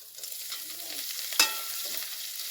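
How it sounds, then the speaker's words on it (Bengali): Chopped tomato goes into a chicken and broccoli curry frying in a pan, giving a steady sizzle with a sharp splash-like burst partway through, close and alone without talk. "এবারে টমেটো কুচিটা দিয়ে দিলাম"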